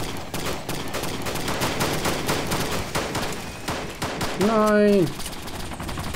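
Rapid bursts of gunfire crackle in a DayZ mod match for Arma 2, with repeated shots layered under excited German voices and a tonal vehicle or engine sound swelling briefly near the end.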